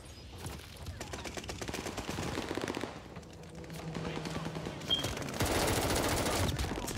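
Rapid automatic AS-44 rifle fire in the Call of Duty Vanguard video game, dense bursts of shots over a continuous game soundscape, loud and close, with someone talking through it.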